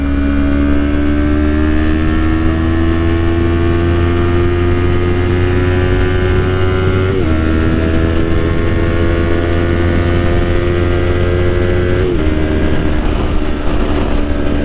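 An R3 streetfighter motorcycle drones loudly and close, its engine note climbing and then dropping at each quick clutchless upshift, with a steady whine and wind rush underneath.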